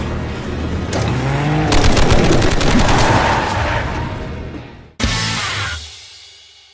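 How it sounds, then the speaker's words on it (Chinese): Animated gunfire in a jungle firefight from the Chinese animated series Mysterious Treasures, a loud continuous burst of shots and booms lasting about five seconds, then a sharp blast that fades out. "三炮，他们要开火了，快点快点啊！"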